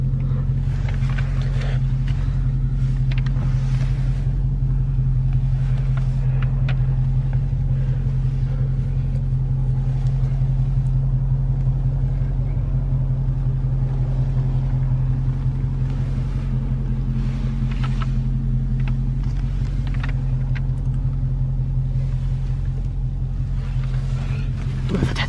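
A 2018 Dodge Charger Scat Pack idles with a steady, deep low rumble that holds throughout, close and loud, with faint clicks and rustles on top and no speech.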